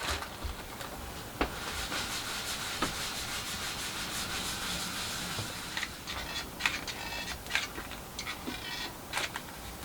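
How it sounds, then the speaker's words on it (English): Rubbing wax onto a nosecone mould in a small shed, a steady close swishing friction with occasional light ticks and taps throughout. "I've just put a 3rd coat of wax on"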